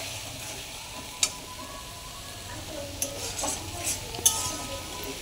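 Chicken with spice masala being stirred in a pan, a soft background sizzle with a few scattered scrapes and clinks of the spoon against the pan, close but fairly quiet.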